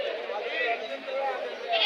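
Sheep bleating at a busy sheep and goat market, several overlapping bleats with crowd chatter, continuous and fairly close throughout.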